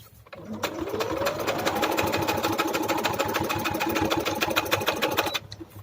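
Sewing machine stitching a buckram collar, running in one fast continuous burst of rapid rhythmic needle clatter for about five seconds before stopping, close and clear.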